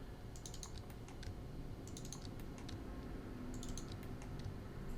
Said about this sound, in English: I'm going to double click this